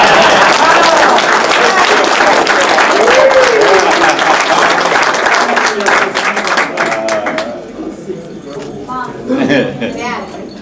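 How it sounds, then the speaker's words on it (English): A crowd at a high school football team reunion claps in loud, sustained applause that gradually thins and fades out, with voices talking and cheering underneath. "Let's give this guy a big round of applause for putting the event on."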